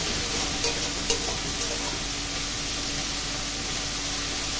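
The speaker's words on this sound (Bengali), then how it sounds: "তেলের মধ্যে মাছগুলোকে দিয়ে দিলাম ভেজে নেবার জন্য" Fish fries in hot oil for a Bengali chorchori dish, a dense, loud, continuous hissing sizzle that holds steady with a couple of small crackles.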